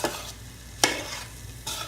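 Shrimp fried rice is stir-fried in a hot pan, with three quick, loud spatula scrapes over a low, steady sizzle, close up.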